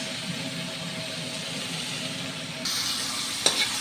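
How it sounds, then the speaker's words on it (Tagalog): Marinated chicken sautéing in a pan for chicken sotanghon soup: a steady, close sizzle with stirring that grows louder partway through, followed by a brief clank of a utensil. "Ayan, gisa-gisa na ang ating chicken."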